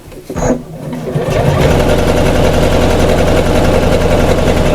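An electric sewing machine stitches the seams of a reversible shopper bag, starting after a brief clatter and then running in a loud, steady, rapid mechanical hum close to the listener.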